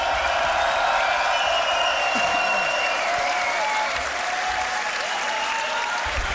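A crowd applauds and cheers steadily for the finalists at a grand beatbox battle world league final, a dense continuous wash of clapping with a few shouts, filling the whole stretch.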